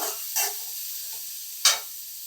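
Onions sautéing in a pan with cloves for a brinjal masala curry, heard as a quiet, soft sizzle with two short bursts of stirring or frying hiss.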